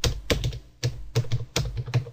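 Keys clack on a computer keyboard with a Spanish layout, typing the Japanese word konnichiwa in kana mode: three quick clusters of close, crisp keystrokes with short pauses between them, and no voices.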